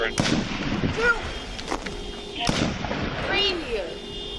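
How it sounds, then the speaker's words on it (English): Gunfire captured on a police body camera during the capture of a mass shooter in Minnesota: several sharp loud cracks spread over a few seconds, with voices talking and shouting throughout. "Shots fired."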